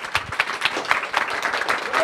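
Audience applause fills an office award ceremony for an internet company, a dense, steady patter of many hands clapping close by for about two seconds, with a few voices mixed in.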